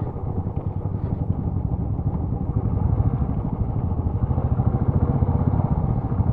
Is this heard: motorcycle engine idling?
yes